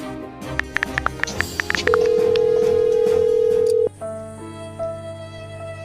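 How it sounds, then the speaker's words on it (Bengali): A telephone in a house makes a series of short electronic tones, then a long steady tone, then quieter alternating ringing tones, heard fairly close. "আরে বাড়িতে একটা ফোনের আওয়াজ হচ্ছে না?"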